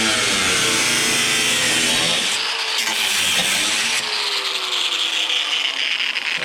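A power tool cuts through the sheet-metal fender of a Jeep Cherokee XJ being trimmed for off-road use, making a loud, continuous harsh grinding rasp with shifting whining tones throughout.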